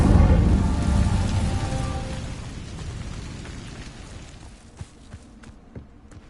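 A fire spell cast in Hogwarts Legacy bursts out loud at the start as a broad whooshing roar, then fades over several seconds into a quieter crackle with a few faint ticks near the end.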